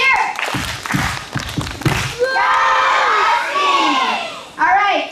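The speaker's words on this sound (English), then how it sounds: "let's give these two a big Husky cheer!" Schoolchildren at a morning meeting give a big cheer, starting with scattered shouts and claps before swelling into a loud, sustained, high-pitched crowd yell that briefly drops and then rises again.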